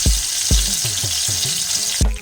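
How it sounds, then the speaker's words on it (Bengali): Hilsa fish fry in hot oil in a pan with a dense, continuous sizzle, loud and close, broken by a few low thumps as pieces are moved. "মাছগুলো দিয়ে দিয়েছি, জাস্ট একটু ভাজা হবে"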